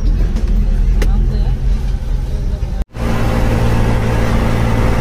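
A car driving in light rain, a steady low engine and road rumble from inside the cabin with a brief cut near the middle, while someone talks over it.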